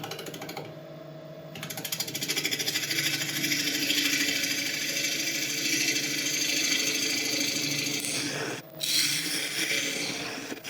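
A wood lathe faces off a resin turning blank, its tool rubbing and scraping in a steady, loud, continuous rasp over the spinning motor hum. Near the end the noise briefly dips and then returns.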